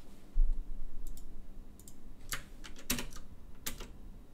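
Code being typed on a computer keyboard, with quick clusters of light key clicks and a few sharper taps spread across a few seconds, close and fairly quiet.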